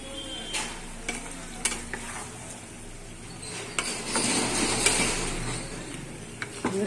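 Chicken sizzles in a pan as ground coriander, chilli and garlic paste are stirred in, with crisp spatula scrapes and clinks over a steady frying hiss that grows louder midway.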